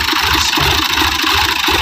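Fiat 15 model tractor engine running steadily and loudly up close, a continuous rumbling drone with a regular low chugging pulse and no voices.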